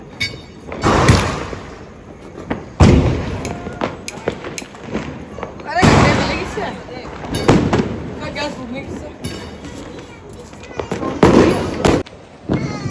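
Diwali firecrackers and fireworks bursting in a series of loud, sharp bangs and thuds with crackling tails, spaced a few seconds apart, while people talk and shout nearby between blasts.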